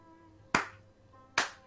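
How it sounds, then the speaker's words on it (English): Two small, light hand claps about a second apart, close and crisp, each decaying quickly against a quiet background. "gives a very small little golf clap"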